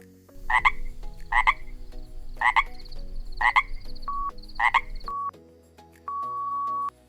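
A frog croaks alone in five loud, evenly spaced bursts, followed by a few short electronic beeps.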